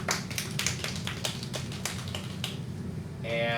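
A classroom gives a golf clap, a quick run of quiet, light, scattered claps and finger taps from many hands, close and soft, fading out into a low hum of room noise.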